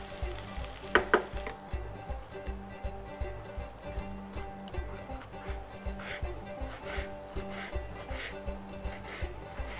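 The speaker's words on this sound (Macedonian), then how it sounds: "она тивко така на полека си се пржи, си пушта од својата вода, од својата течност" Chickpeas fry slowly on low heat in a pan for a traditional tava naut, a soft, steady sizzle with rhythmic scraping from stirring and a louder clatter early on.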